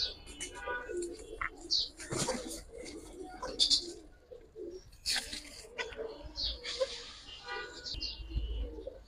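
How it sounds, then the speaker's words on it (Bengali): A large female homing pigeon coos among other birds, with soft repeated low calls and scattered chirps close by under steady background noise. "বিগ সাইজের একটা মাদি কবুতর ভাই।"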